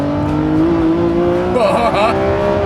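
Lamborghini Revuelto with an 8-speed dual-clutch gearbox accelerating on an open road, a loud rising engine drone climbing in pitch and then briefly breaking into a sharp shift-like burst near the end, heard from inside the car.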